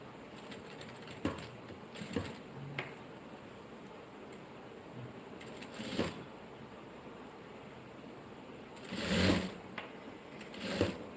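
Sewing machine stitching piping onto blouse cloth whirs in short bursts of a few seconds each, with quiet mechanical ticking and pauses between runs of stitches.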